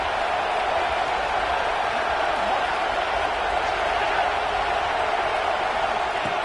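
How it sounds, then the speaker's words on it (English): Steady roar of a large football stadium crowd at a Notre Dame versus USC game, a dense continuous wash of cheering noise without clear peaks, loud and sustained throughout. "this crowd is fired up. Listen to this noise here."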